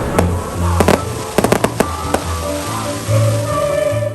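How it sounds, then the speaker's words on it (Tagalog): Fireworks at a Christmas lighting ceremony go off in a series of sharp bangs and crackles, several bursts clustered together over a low steady rumble. "Isa ka fireworks display ang nag-highlight sa simultaneous Christmas lighting ceremony"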